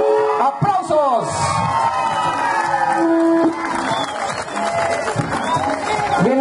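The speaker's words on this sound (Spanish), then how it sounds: "¡Aplausos!" An outdoor crowd in a park in San Alejo at a 2015 mayoral candidates' debate roars with cheers, whoops and shouted voices over a dense, steady din, with scattered clapping mixed in throughout.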